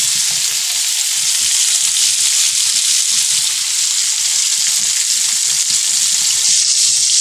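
Chicken pieces for a zinger burger deep-frying in hot oil, a loud, dense, unbroken hiss and crackle that stays even and close for the whole stretch.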